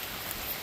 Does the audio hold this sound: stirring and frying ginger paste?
no